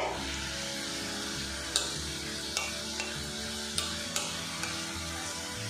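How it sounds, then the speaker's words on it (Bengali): Semolina snacks deep-fry in hot oil until brown and crisp, a soft continuous sizzle punctuated by a few sharp utensil clicks at irregular intervals, with no one speaking. "একটু ব্রাউন কালার করে এগুলো ফ্রাই করে নেব, তাহলে অনেক বেশি কিন্তু মুচমুচে হবে"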